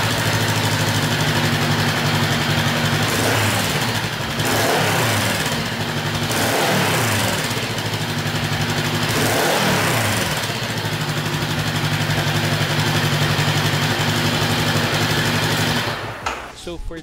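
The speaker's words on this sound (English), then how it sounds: "hindi pwedeng mawala yung sound check ng exhaust ng bike" A Voge 500DS motorcycle's exhaust, loud and close, a steady engine drone held throughout with a few revs that rise and fall in pitch, cutting off abruptly near the end.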